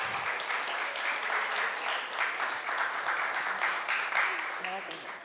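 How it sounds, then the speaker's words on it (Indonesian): An audience at a seminar applauds a speaker with a steady wash of clapping for several seconds. A voice talks faintly over it, and the applause tapers off near the end. "Kita kasih tepuk tangan."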